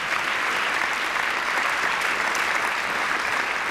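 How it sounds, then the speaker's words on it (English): An audience at a high school football signing day applauds the coaching staff, a dense, steady wash of clapping from a crowd, continuous and fairly loud. "So please give a round of applause to our coaching staff."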